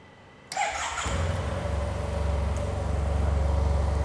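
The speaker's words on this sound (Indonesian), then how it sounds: "Suaranya merdu, khas mesin 2 silinder." A Yamaha TMAX 560 scooter's two-cylinder engine starts up and settles into a steady, rhythmic idle with a low, throbbing pulse, close by.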